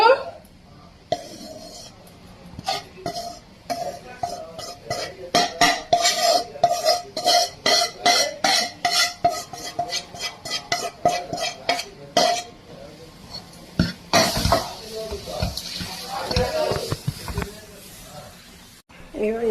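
A spoon clinks rapidly and rhythmically against a metal pot while besan flour is stirred into jaggery syrup for laddu. Close, steady scraping taps are interrupted by pauses and some handling noise, and a voice talks intermittently.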